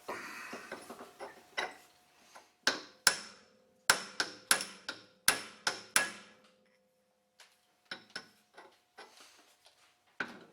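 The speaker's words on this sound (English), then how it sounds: "It's time for a hammer and a big punch." Sharp metallic hammer blows strike a steel punch in irregular bursts, some in quick runs, others isolated with pauses between, while driving out a bad arbor bearing on a rock saw.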